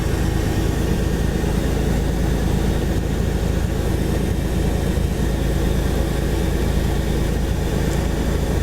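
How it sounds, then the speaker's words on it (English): A light aircraft's engine idles steadily during warm-up before taxi, a loud, continuous broadband drone with a low rumbling hum that holds unchanged throughout. "The aircraft is being warmed up"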